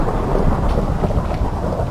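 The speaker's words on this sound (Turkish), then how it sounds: "Ya yıldırım çarpma." Thunder from a lightning strike in the Minecraft video game, a loud, dense, continuous rumble over steady rain for two seconds, with no voices.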